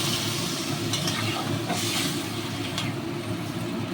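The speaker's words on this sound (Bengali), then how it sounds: "এবার আমি ভাজা হয়ে গেছে জল দিয়ে নিচ্ছি" A loud, dense hiss and bubbling roar as water is poured into a hot frying pan of fried vegetables, steady and close, with a few brief scraping sounds on top.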